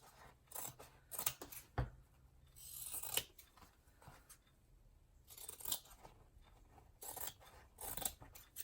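Scissors trim kitchen roll used for a curved book spine, producing repeated crisp snips and soft papery rustles in irregular bursts, close and quiet with no talk.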